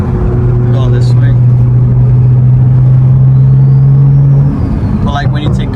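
A BMW M340i accelerates past outside, with a loud, steady engine drone and turbo whine holding for several seconds and then fading as the car moves off.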